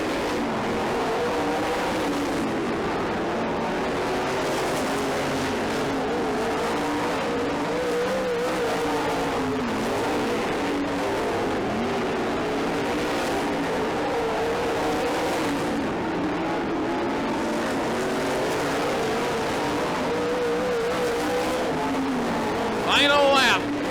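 Race cars roar around a dirt track in a steady, continuous engine drone, with cars passing in waves over the full stretch and a track announcer talking throughout.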